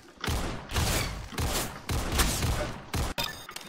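Desert Eagle pistol fire in a video game comes as several loud, close, heavy blasts spaced roughly half a second apart, each with a booming tail, and the volley ends in a couple of quicker shots.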